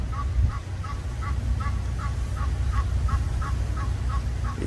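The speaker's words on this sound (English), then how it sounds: "Egyptian geese." Egyptian geese perched on a house roof in South Florida honk in a steady series of about a dozen evenly spaced calls, heard over a low rumbling background at dusk.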